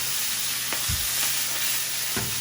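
Butter melting in a hot pan, ready for garlic and pepper for paprika honey garlic wings, gives a steady close sizzling hiss broken by a couple of soft low knocks.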